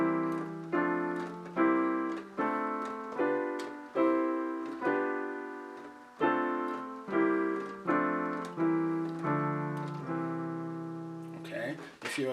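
Piano playing Ghanaian-style African locked-hand block chords in C, a string of firm, full chords struck one after another at a steady moderate pace, each ringing and decaying before the next, clear and close without voices.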